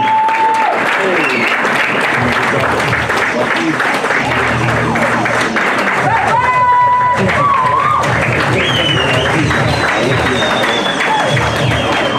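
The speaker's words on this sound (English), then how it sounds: "Round of applause, ladies and gentlemen." An audience at a Kenya Film Commission ceremony gives sustained applause, a dense, loud wash of clapping and cheering that runs throughout, with voices and whistles rising above it.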